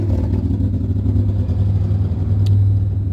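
A car with a loud exhaust rumbles and revs close by, a deep steady drone holding throughout with a slight swell near the end.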